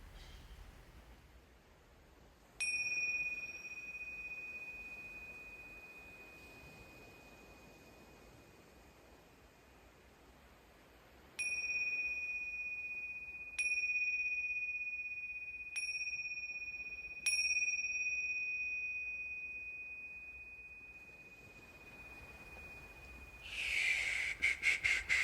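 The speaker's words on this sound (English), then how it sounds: "Returning home to yourself with the sound of the bell, following the sound all the way to the end." A meditation bell is struck about five times, with clear, resonant tones that ring and slowly fade in a quiet room.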